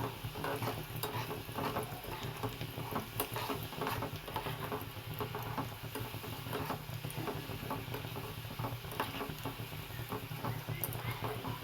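Homemade hair oil ingredients frying in a pan, giving a steady, busy crackle and patter of bubbling oil that runs evenly throughout at moderate volume, with no voices.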